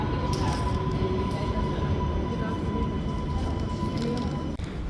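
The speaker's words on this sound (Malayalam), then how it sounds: "അപ്പോഴേക്കും ട്രെയിൻ വന്നു" An underground metro train in Israel pulls into a station, a loud continuous rumble with a faint steady whine, fading slightly near the end, no talk.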